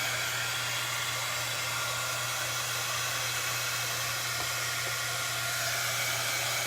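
A heat tool blows hot air over a metal Dollar Tree pizza pan, a loud, steady, unbroken roar of rushing air with a low hum, up close and alone.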